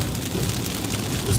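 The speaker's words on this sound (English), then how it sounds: "Just a lot of rain to get through." Heavy rain hits a moving car on the road, a dense, steady drumming close by with low road rumble underneath and no talk.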